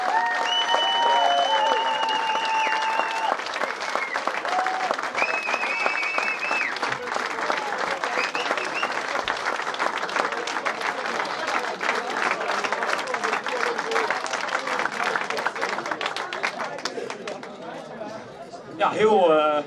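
Loud, sustained applause with cheering and crowd chatter welcomes the DJs back into a packed charity café in Bornerbroek, with music and the hubbub running continuously for nearly twenty seconds before a brief dip.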